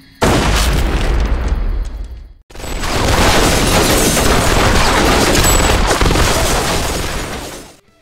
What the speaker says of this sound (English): The surprised Sanderson fires a warning shot when they enter, alerting the criminals